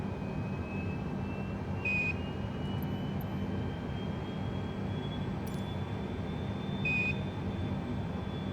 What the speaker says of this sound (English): we've got the APU up and running, power to the aircraft, so we're going to get the engine started.